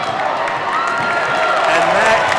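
Basketball crowd at a men's NJAC final cheering and clapping in a gym, a dense continuous roar that swells toward the end, with a commentator talking over it.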